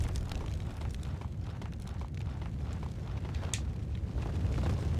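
Fire roars in the shooter Max Payne 2 inside a torn-apart building, giving off a low, steady rumbling whoosh with faint crackles. It is fairly quiet and continuous throughout.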